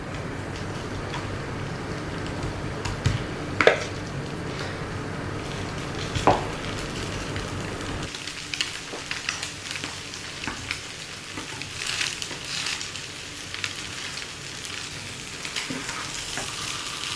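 Grated potato rösti frying in butter in a small non-stick pan, a steady close sizzle that shifts and thins halfway through, with a couple of sharp utensil clicks early on.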